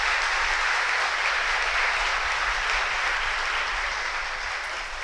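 Loud, dense applause from an audience at an award function and book launch, a continuous roar of clapping that holds steady throughout and eases slightly at the very end.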